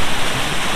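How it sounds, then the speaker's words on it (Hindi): A small waterfall at Bamniya pouring into a pool below: a loud, continuous, close rush of falling water with a slightly fluttering level and no talk. "ये एक और जो बड़ा वाटरफॉल है इसके बाद में नीचे पानी गिरता है।"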